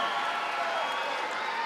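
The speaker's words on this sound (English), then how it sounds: "NC State getting their fans pumped up for this home crowd" A home crowd at an NC State gymnastics meet against Michigan State cheers and claps, a brief, even wash of distant arena noise with no single voice standing out.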